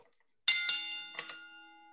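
A bell is struck in two quick pairs of hits, each strike bright and metallic, with a clear ringing tone that lingers and slowly fades after the last hit in an otherwise quiet setting.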